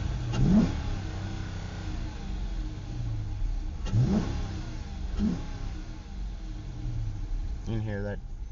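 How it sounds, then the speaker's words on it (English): A 2015 Dodge Charger R/T with a K&N air intake and stock exhaust revs up three times from idle, each a sharp rising roar that settles back into a steady rumble, heard up close with brief talking near the end. "You can hear that K&N pulling in quite a bit of air."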